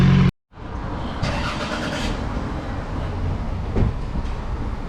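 A supercharged car revs hard under acceleration, giving a loud sustained engine roar after a brief silent gap, with a rising surge near the end.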